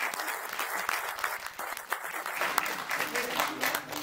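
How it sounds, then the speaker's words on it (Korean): Audience applauding a lawmaker at a launch ceremony for a national petition campaign opposing nuclear phase-out and backing resumed Shin Hanul units 3 and 4 construction; dense steady clapping throughout, moderately loud, with some voices mixed in. "정우천 의원님께 다시 한번 박수 부탁드리겠습니다."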